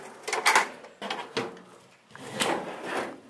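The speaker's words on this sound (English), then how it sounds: "I have this big drawer" A large tool box drawer slides open and shut in several short bursts, metallic rolling and clunking in quick succession, close and fairly loud.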